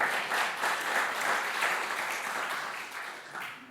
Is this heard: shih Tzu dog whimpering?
no